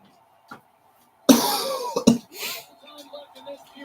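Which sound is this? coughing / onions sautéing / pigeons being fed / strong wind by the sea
coughing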